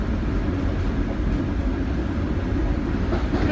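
Steady roar of a New York City subway train in motion, a constant low rumble with faint rail clatter heard from inside the car, loud and unbroken throughout.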